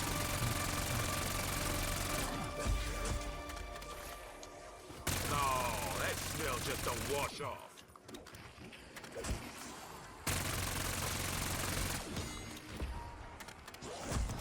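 Sustained full-auto bursts from the FFAR rifle in Black Ops 6, rapid continuous gunfire with brief gaps between long strings of shots, loud and close, mixed with game sound effects.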